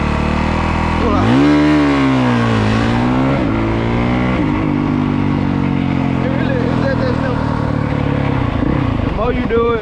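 Dirt bike launching from a standstill, the engine held at high revs then rising and falling sharply in pitch as the clutch is released and it pulls away, loud and close, with someone talking over it.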